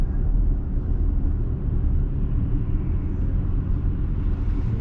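Car idling and creeping along in a Port Orchard traffic jam, Washington, with a steady low engine and road rumble filling the cabin, no talking.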